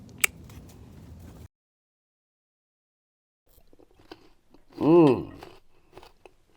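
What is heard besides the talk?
biting and chewing raw Jerusalem artichoke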